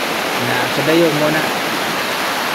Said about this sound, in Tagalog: Medyo hinahinay ang agas sa tubig.